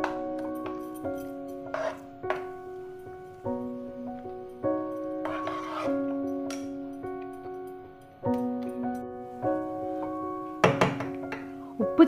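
Rice flour batter for pesaha appam is stirred in a bowl, with a utensil knocking and clinking against the sides in irregular close thunks and taps, while tonal background music plays faintly underneath.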